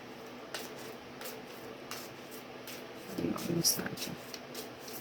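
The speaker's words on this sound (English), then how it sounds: "right now I'm shuffling the deck of Heaven and Hell" A deck of tarot cards is shuffled by hand, giving soft, quiet, repeated flicks and taps at an even pace, with a brief rustle midway.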